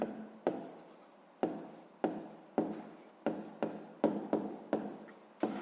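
Pen writing on paper during a 6th-grade maths exercise, a run of about ten short scratchy strokes at an uneven rhythm, close and fairly quiet, with no talking.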